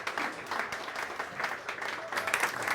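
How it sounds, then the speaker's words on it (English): Audience applause after thanks to a team for organizing a school kids' lab event, a steady spread of clapping at moderate loudness through the whole stretch, with a faint bit of talk mixed in. "that's worth an applause"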